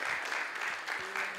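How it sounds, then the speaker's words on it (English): Audience applause at a startup demo day after a pitch, a steady, dense patter of clapping filling the short moment without any voices. "Warm applause for HayTax."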